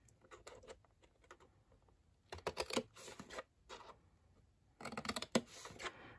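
Scissors snip through scored card in quick bursts of crisp, close cuts, separated by brief pauses, with no voices.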